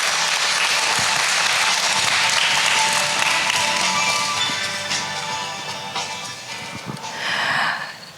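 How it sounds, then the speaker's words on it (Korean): A large audience applauds to open the Jeju international student art competition, with a thick, continuous roar of clapping that holds steady, then gradually fades, followed by a brief final swell. "큰 박수를 부탁드립니다."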